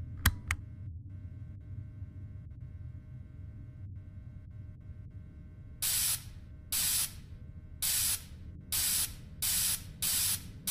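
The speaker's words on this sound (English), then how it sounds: "So go ahead and start spraying the suit" Repeated bursts of spraying on the suit in the horror video game Fredbear's and Friends: Left to Rot, six even hissing blasts in a steady rhythm over a low game hum, loud and close, with no talking.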